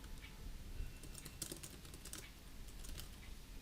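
Someone types a blog post title on a computer keyboard in Blogger, giving a soft, quiet patter of scattered keystrokes against a faint background hiss, with no speech.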